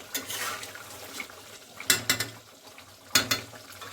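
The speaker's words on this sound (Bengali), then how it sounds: "এটা একটু সুন্দর করে লাড়বো।" Chicken curry with potatoes is stirred in a pan: scattered scrapes and clinks of a utensil against metal, with two sharper bursts of clatter, close and fairly quiet over a faint sizzle.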